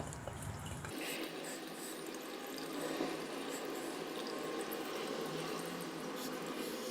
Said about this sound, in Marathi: आता आपण हे असं हाताने थोडंसं पिळून घेणार आहोत जेणेकरून त्यातलं सर्व पाणी जे आहे ते निघून जाईल